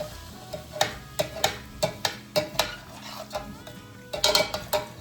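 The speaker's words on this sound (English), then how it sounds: "So we're gonna stir this until it's fully absorbed." A spoon scrapes and clinks against a pot while stirring mushroom risotto rice, a series of sharp irregular taps and scrapes over a faint sizzle, close up with no talking.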